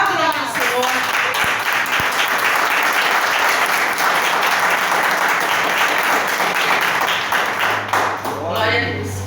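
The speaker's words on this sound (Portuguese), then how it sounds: "Aplauda o nome do Senhor." Church congregation bursts into loud, sustained applause, a thick wall of clapping lasting several seconds, with voices briefly audible at the start and again as it fades.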